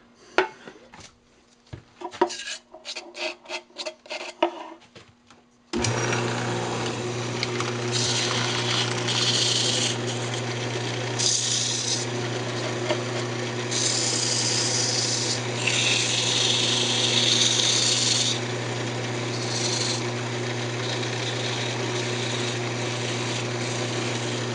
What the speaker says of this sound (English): I'll go ahead and sand it up.